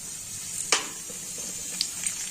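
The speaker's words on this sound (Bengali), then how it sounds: "তেল গরম হয়ে গেছে, এবার আমি এর মধ্যে দেবো কালো জিরে" Nigella seeds (kalo jeere) hit hot oil in a pan during Bengali vegetable cooking, giving a steady close hiss of sizzling with a few sharp pops and crackles scattered through it.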